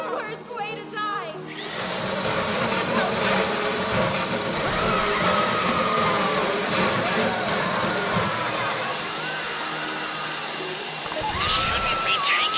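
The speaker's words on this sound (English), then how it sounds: "That drill got another gear?" A heist drill in the GTA 5 video game runs as a continuous, loud, grinding mechanical whir that holds steady for about ten seconds, layered with game background noise.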